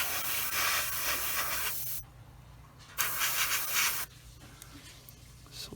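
An airbrush sprays paint onto a Bandai 1/72 X-Wing Starfighter model kit, giving a steady close hiss that cuts off, returns for about a second, then stops again.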